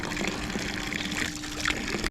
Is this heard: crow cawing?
no